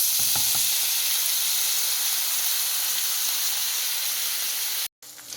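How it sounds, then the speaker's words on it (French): Mackerel pieces fry in hot oil in a pan, a loud steady sizzle and hiss throughout with a few light clinks at the start, cutting off abruptly near the end. "Et dès que l'huile est chaude, je rajoute mon poisson"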